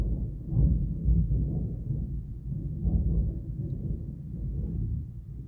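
Thunder from an approaching storm rolls as a continuous low, deep rumble, steady and fairly loud throughout, with no voices.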